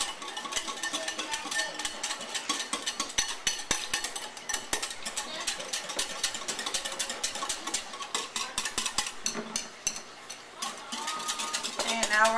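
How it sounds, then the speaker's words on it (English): Small whisk beating yeast into liquid in a bowl for homemade pita bread dough, a steady run of quick, close clicking scrapes against the bowl lasting several seconds with a brief pause near the end. "we're going to sprinkle the 2¼ teaspoons of yeast or 1 packet of yeast on top. And we're going to whisk that together."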